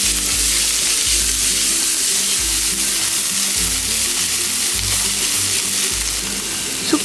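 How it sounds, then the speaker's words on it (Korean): Zucchini and minced garlic stir-fry in cooking oil in a pan over high heat, a loud steady sizzle running throughout with rhythmic scraping and tossing strokes from stirring. "다시 팬을 강불에 올리고 식용유, 다진 마늘을 넣고 볶아주세요. 마늘 향이 나면 애호박을 넣고 볶아주세요."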